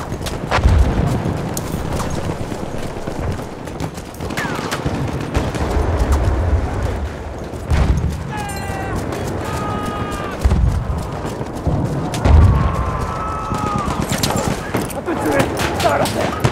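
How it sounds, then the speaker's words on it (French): Enemy machine gun fire in the game Battlefield 1, with scattered heavy gunshots and bursts over a busy battlefield din, loud and close, mixed with shouting voices and other combat noise. "Ah, mitrailleuse ennemie."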